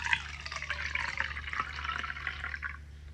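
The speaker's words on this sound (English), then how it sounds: "we're going to say this is a urinal, and you're going to pour it in." Liquid pours from a urinal into a container in a steady trickling stream, splashing softly for about three seconds before tapering off.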